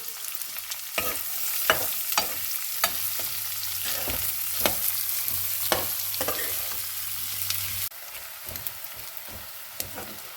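Chopped onions sizzle and fry steadily in a pan for paneer bhurji, with close, continuous crackling and occasional stirring scrapes, no talk over it.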